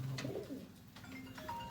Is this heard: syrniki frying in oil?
no